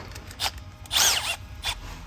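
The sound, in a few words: power drill with riveting adapter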